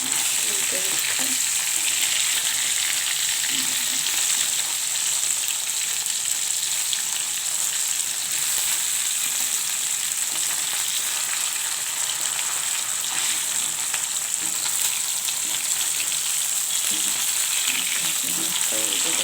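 Bata fish frying in hot oil for a curry, a steady, dense sizzle running loudly and evenly throughout with no talk, only faint movement of the pieces in the pan.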